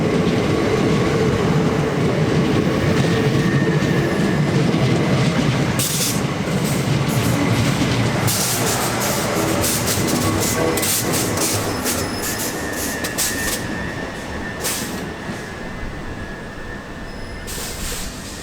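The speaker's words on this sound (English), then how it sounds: "The next train is passing through the station." A train passes through Dumpton Park railway station in Kent with a loud, steady rumble and rhythmic clickety-clack of wheels on rails, lasting throughout and easing slightly toward the end.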